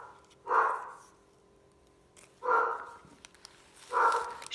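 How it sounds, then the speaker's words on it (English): Three separate barks from a dog indoors, spaced a second or two apart, fairly loud against a quiet background. "there's my naughty dogs barking"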